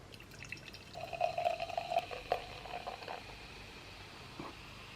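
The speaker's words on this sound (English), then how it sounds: "Just going to swirl whatever's left on the bottom of the can and then just pour it right in" Beer pours from a can into a teacup-style glass: a soft trickling, bubbling stream rises and fades over a few seconds, with faint fizzing afterward.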